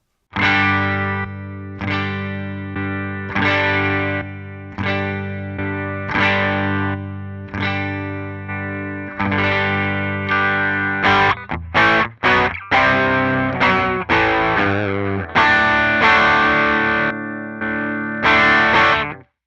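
Electric guitar through an overdrive pedal in a Line 6 POD Go effects loop plays chords and quick strummed bursts, gritty and sustained, with a chorus-like shimmer and no voices.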